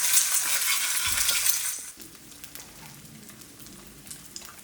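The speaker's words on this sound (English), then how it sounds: "Crack the egg in and gently scramble." Egg being gently scrambled in a hot pan for soy sauce fried rice, a bright sizzle loud for about two seconds before dropping to a quieter crackle with faint scraping underneath.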